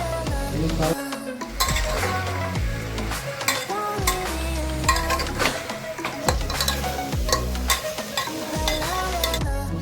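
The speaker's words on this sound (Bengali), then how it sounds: "গাজর টমেটো এসব দিয়ে এটাকে সুন্দরভাবে ফ্রাই করতে হবে।" Chicken pieces frying village-style with carrots and tomatoes, a steady sizzle broken by repeated scraping stirs and the clink of a spoon against the pan, close and fairly loud throughout.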